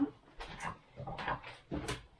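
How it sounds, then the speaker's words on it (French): A dog busies itself stashing a bone indoors, giving off odd short snuffles, whimpers and scraping noises in three close bursts with quiet gaps between. "Si vous entendez des bruits chelous, c'est mon chien qui est occupé de ranger un os juste pendant que je filme."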